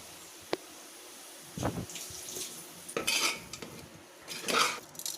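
A big pot of prawn biryani with mint and coriander being stirred: metal utensils clank and scrape against the pot in a few close bursts, with wet shuffling between them and no talking.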